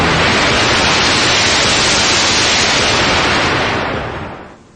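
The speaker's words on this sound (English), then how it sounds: "it starts off with a literal jump scare in the form of a booming static noise" Loud, booming static noise bursts in at full volume from the 3G Home Video logo, a dense hiss that holds steady for several seconds, then fades out near the end.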